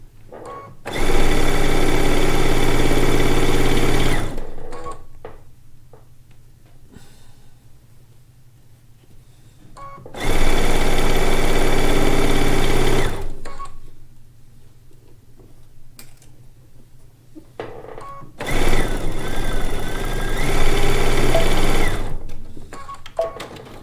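Three long bursts of a sewing machine piecing the last log cabin quilt block, each run several seconds, loud and close, separated by quiet pauses with faint handling sounds.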